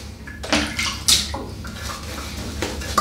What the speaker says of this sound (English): I'm dipping the entire knot here, not just the tips.